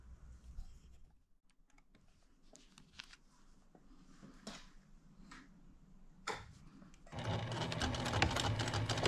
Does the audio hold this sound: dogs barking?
no